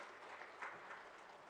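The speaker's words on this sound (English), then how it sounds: "Please give him a big round of applause" Audience applause for a Union Minister at a coal, coke and blast furnace industry conference in a hotel hall, a brief, soft, even wash of clapping from a crowd heard at some distance.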